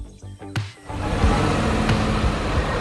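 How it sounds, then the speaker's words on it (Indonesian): A green excavator digs into the ground at a construction site, its mid-pitched diesel engine rumbling steadily and close after a few sharp clanks at the start, with no talk. "Ekskavator hijau itu sedang melubangi tanah."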